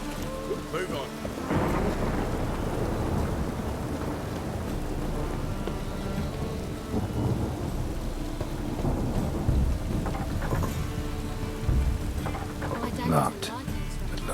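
Heavy rain and rolling thunder in The Witcher 3: Wild Hunt, a dense continuous downpour with repeated deep rumbles and a few louder thunder bursts, under faint game voices.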